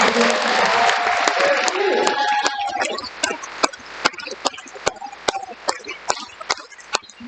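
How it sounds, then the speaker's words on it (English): An audience at a veterans show gives a round of applause that thins out into a few scattered, loud individual claps spaced roughly every half second, with a voice speaking over the start. "one more round of applause"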